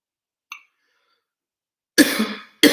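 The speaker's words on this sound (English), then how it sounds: "I'm feeling a little cough in my throat" A person with a slight cough gives a faint short throat sound, then after a pause two loud close coughs, the second cut off, with no talking.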